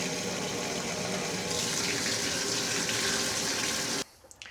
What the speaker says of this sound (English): I'm just going to get them wet.